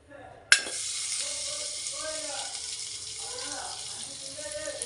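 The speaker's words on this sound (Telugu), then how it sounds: "పన్నీర్ ముక్కలను ఫ్రై చేయాలి." Paneer pieces fry in butter in a pan on a gas stove over low flame, a sudden clatter as they go in followed by an even, moderate sizzle and hiss.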